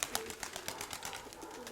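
Pigeon sounds in a spring setting among flying birds, a quick series of soft flutters and clicks, close and faint, with no voices.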